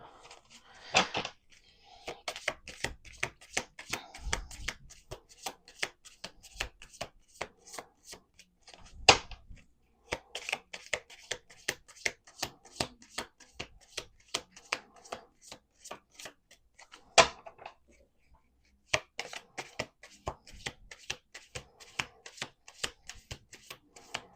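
Cards being riffle-shuffled close by in several rapid fluttering bursts, each ending with a soft tap as the deck is squared, with brief gaps between.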